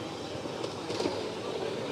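A miniature model train rolls toward a crossing at an outdoor model village, a soft rumbling clatter rising steadily with faint voices and ambient noise around it.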